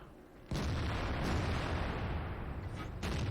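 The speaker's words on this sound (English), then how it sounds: "Fully aimed, and the shot goes low." Tank cannon fire in World of Tanks: a sudden loud blast at about half a second rolling into a long, heavy rumble, then a second sharp boom near the end, close and dominant with no talk.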